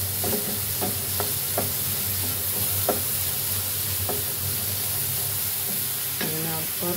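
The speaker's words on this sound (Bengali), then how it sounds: "একটু ভেজে নিচ্ছি।" Onion and ginger with salt fry in a pan for a village-style country chicken curry, a steady hiss and sizzle throughout with periodic scraping stirs of a spoon.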